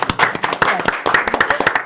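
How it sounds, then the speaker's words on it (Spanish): Close, sharp hand claps from a church audience, a quick uneven burst of individual claps from a few people rather than a full roar. "Un aplauso, un aplauso."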